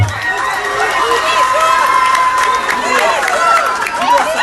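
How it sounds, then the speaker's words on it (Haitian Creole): A large crowd claps and cheers at a public gathering marking Abelson Gros-Nègre's release from prison. Dense, steady applause blends with many overlapping shouting voices, loud and close for the whole stretch. "Battez un gros bravo peut-être"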